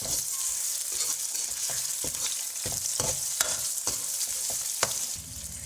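Chopped onions and large tomato pieces fry in a pan for an aloo matar chicken dish, with a steady close sizzle and repeated sharp scrapes and clicks of stirring.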